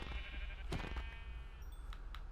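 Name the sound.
sheep bleating in the video game Minecraft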